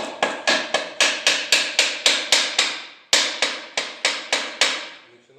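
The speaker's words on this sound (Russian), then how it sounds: "Дальше берем молоточек и" A small hammer tapping main bearing caps to loosen them on a disassembled Hyundai/Kia G4NA engine: quick, evenly spaced metallic knocks, close and loud, in two runs with a short pause between.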